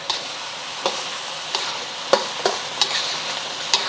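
Lettuce wrap filling sizzles in bubbling sauce in a pan, a steady frying hiss broken by regular clacks and scrapes of a utensil stirring, close up with no voices.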